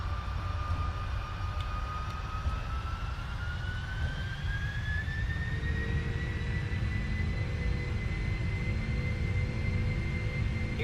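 A jet airliner in the Prepar3d flight simulator accelerates down the runway on its takeoff roll, a steady loud engine roar with a rising turbine whine that climbs in pitch throughout, no voices.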